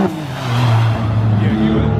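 A Corvette engine revs hard at a car meet, its deep rising and falling growl loud and close for about two seconds while people talk nearby.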